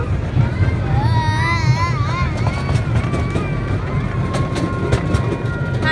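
A miniature park train runs along its tracks in Scottsdale, a steady rumble with rattling clatter and some squealing tones, while people talk and children chatter nearby throughout.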